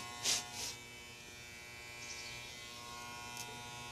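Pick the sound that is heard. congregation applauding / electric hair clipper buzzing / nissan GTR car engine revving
electric hair clipper buzzing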